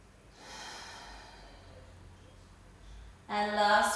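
Deep breathing during a yoga exercise, slow airy inhales and exhales at close range, ending in a louder, sharper breath near the end.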